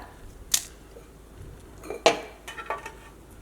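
A few sharp clinks and knocks of a mixer-grinder jar being picked up and set down, spaced out against a quiet room.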